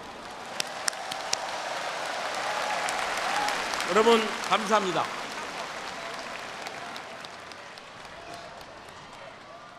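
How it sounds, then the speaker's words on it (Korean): A crowd applauds warmly, the clapping swelling briefly, while someone speaks in Korean over it through a public address system, at the closing ceremony of the 2015 Summer Universiade in Gwangju. "우리 서로에게 다시 한번 뜨거운 감사의 박수를 보냅시다"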